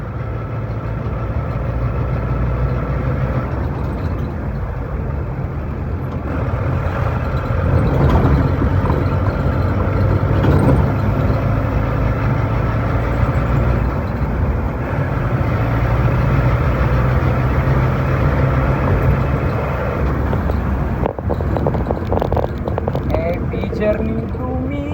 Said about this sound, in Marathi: आपली गाडी सध्या आहे 5व्या गिअरवर